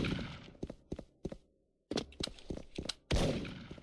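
Gunfire in the video game Mafia, a series of sharp close shots in uneven bursts separated by short pauses, ending with a louder volley.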